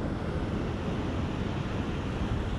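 Pacific surf on a rocky shore makes a steady, loud roar of broken water with some wind rumble, with no distinct wave breaks standing out.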